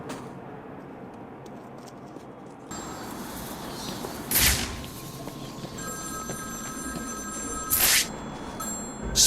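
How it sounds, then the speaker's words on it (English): A telephone bell in the video game Batman: Arkham City rings in two short bursts a few seconds apart, over a steady background hum with faint electronic tones. "Ring, ring."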